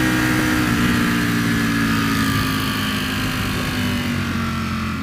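A Ducati V4 Speciale motorcycle engine roars under way while riding, a loud, steady, close drone that holds for the full stretch with no voices over it.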